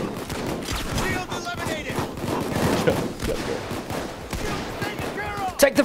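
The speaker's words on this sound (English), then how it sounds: "They're shooting at us." Gunfire crackles during a Payday 2 heist shootout as bursts of shots rattle through the fight. Loud, overlapping voices shout over the shooting throughout.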